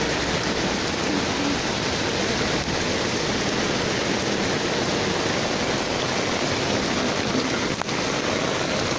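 Heavy rain pours in a steady, unbroken roar, loud and close, a dense hiss with no break or talking throughout.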